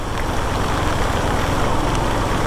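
Motorcycle engine runs steadily through floodwater, a close, continuous rough rumble with broadband noise and no noticeable change in pitch, alone without voices.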